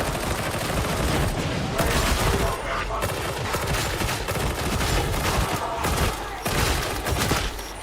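An auto pistol firing in the Warhammer game Skitarii, dense rapid shots in continuous bursts with short pauses, loud and close throughout.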